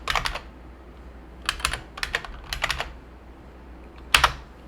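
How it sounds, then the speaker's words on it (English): Keys on a computer keyboard clatter in several quick bursts with short gaps between them, close and fairly quiet, ending in a single sharper keystroke. "we'll type in DC promo"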